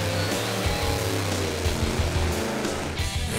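A 1970 1/2 Camaro at a pass-time event revs hard through a burnout, its engine droning loud and close with rough, pulsing exhaust roar.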